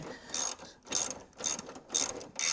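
Ratchet wrench loosening an engine mount bolt on a 2006-2011 Honda Civic sedan, four quick rhythmic bursts of clicking, close and crisp with short pauses between strokes.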